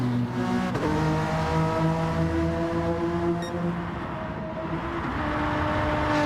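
Several race cars roar steadily in a racing video game, engines droning and shifting pitch together as they run close, with a brief whine partway through; no one speaks.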